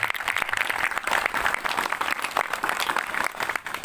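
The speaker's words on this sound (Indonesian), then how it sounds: "Tepuk tangan untuk Mas." Applause from an audience at an Islamic boarding school (santri) graduation ceremony, a dense steady wash of clapping lasting a few seconds, moderately loud and without speech.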